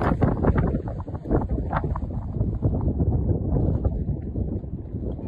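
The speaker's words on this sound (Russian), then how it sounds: "меня сдувает, поднимается ветер" Wind gusts on the Black Sea coast at Anapa roar and buffet the microphone in a steady, heavy rumble, with no letup throughout.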